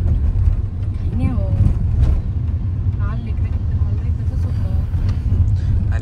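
A low, steady car-interior rumble from a moving car fills the cabin while passengers chat over it.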